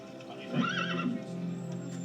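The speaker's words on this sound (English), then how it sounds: "My father's horse, as promised." A horse gives a clear, rising-and-falling whinny lasting about half a second, mid-distance, over a steady low background hum; no voices.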